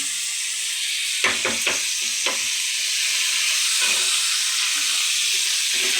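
Potatoes fry lightly in a pan with a strong, steady hiss of sizzling oil, interrupted early by a short cluster of sharp spatula knocks and later a single scrape.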